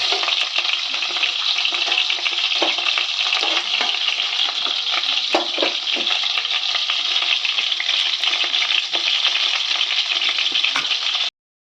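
Whole cardamom, black pepper, cloves, cinnamon stick and bay leaf frying in hot melted butter, a loud, dense, continuous sizzle with small crackles and pops, no voices.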